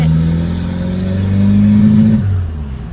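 Loud engine roar from a car called the Gambi, driven on its first test lap while still somewhat cold, a rising, sustained rev with strong low harmonics that climbs, holds, then drops off near the end, heard up close inside the car.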